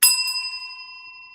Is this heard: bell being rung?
yes